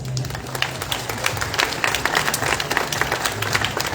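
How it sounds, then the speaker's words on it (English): Graduates at a 2022 high school graduation ceremony applaud their faculty and staff, a broad continuous roar of many hands clapping in a large hall, with scattered crowd noise underneath. "Graduates, please stand up and give a big round of applause to our faculty and staff."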